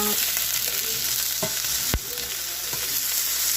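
Fresh beef frying in oil in a pan, a steady bright sizzle with one sharp clack of the pan or utensil as the meat is flipped, then a few lighter scrapes, close by.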